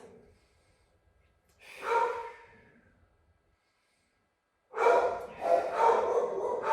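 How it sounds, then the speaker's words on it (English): A person stretching on the floor takes deep, audible breaths close to the mic, with a slow inhale, a pause of silence, then a longer, fuller breath. "breathe into the stretch. Nice deep breaths."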